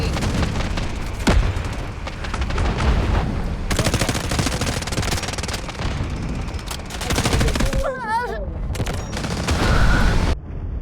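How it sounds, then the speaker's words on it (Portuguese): Artillery barrage explosions in the video game Delta Force, with a continuous stream of loud booms and gunfire-like bursts rolling across the scene, nearly unbroken for about eleven seconds. "Requesting artillery barrage on coordinates. Over. Artillery barrage incoming."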